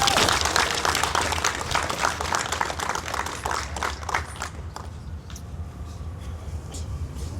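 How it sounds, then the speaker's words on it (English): Applause from an audience at a memorial event, many hands clapping in a dense patter that gradually thins and fades, with a voice faintly audible underneath. "One more round of applause for all our student speakers"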